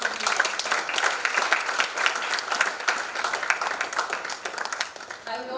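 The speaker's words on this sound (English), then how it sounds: "A big round of applause to you." An audience at a college annual day bursts into sustained applause, a dense, lively clatter of many hands with some crowd noise mixed in, tapering slightly near the end.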